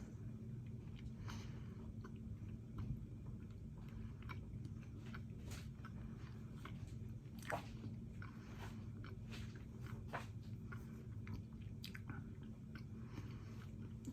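A Monk Pack granola bar, a sticky keto snack, chewed close to the mic with soft, steady crunchy bites and squishy mastication over a constant low hum, no talking.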